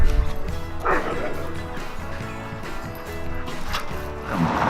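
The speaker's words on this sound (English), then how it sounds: "They can really bark at each other." Dogs bark at each other in a few sharp yips and woofs scattered over a busy background, with other noise and muffled sounds around them.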